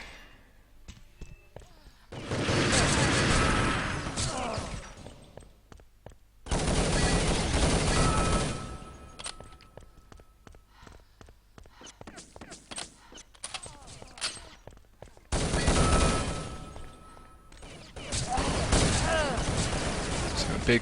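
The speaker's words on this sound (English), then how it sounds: "he's still making headshots on Tarquin" Gunfire in a competitive video game match between France and the USA, heard as dense bursts of rapid automatic fire in several loud clusters, with quieter scattered shots and game noise in between.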